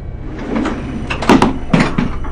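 A door opens in the Die Hard: Nakatomi Plaza video game, a mechanical sliding clunk with a few sharp knocks over low background hum.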